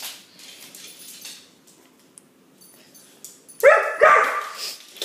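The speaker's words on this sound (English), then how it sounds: "It's a dog." Several dogs bark and yip loudly in a sudden burst near the end as they go after a fly indoors, following quieter stretches with faint background sounds.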